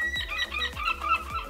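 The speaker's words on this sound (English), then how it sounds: "you hear the birds?" Birds call and chirp repeatedly at moderate loudness, with bright chicken-like clucks standing out over a steady low background hum, without any talking.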